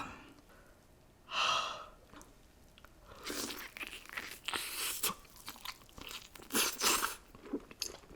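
Crunchy onion dipped in sauce bitten and chewed up close, a loud crisp crunch followed by several bursts of wet crunching and breathy exhales, alone without talk.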